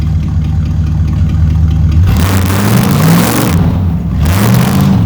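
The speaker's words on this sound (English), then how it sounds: "Oh, meaty burnout in the grass." A 1972 Dodge Crew Cab engine idles loud and close, then revs hard into a burnout in the grass, its pitch climbing and falling through several surging pulls.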